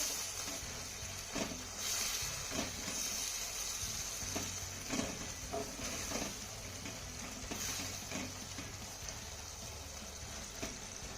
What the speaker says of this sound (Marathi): मिरची देखील आपल्याला दोन ते तीन मिनिटं चांगली परतून घ्यायची आहे